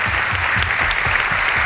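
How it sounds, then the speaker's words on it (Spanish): A studio audience applauding a guest, with dense, loud, continuous clapping close up throughout. "os pido un aplauso para él, Alberto Hernández"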